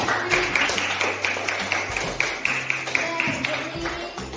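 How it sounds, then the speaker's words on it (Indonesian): A school class in Indonesia applauds with brisk, dense clapping from many hands in a room, steady and fairly close throughout, with some voices mixed in. "Ya, tepuk tangan."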